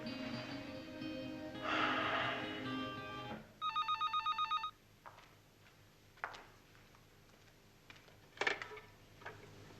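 A telephone rings once in a domestic scene from a Punjabi TV drama: a rapid, trilling electronic bell burst lasting about a second, moderately loud, framed by quieter room sounds and brief clatter, with no talking.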